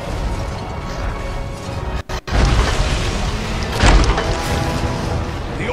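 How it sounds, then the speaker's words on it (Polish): Explosion in the video game Lord of the Rings: War in the North, a loud rumbling boom that cuts out briefly, then surges back as a dense roar with a second burst near the end. "wybuchło"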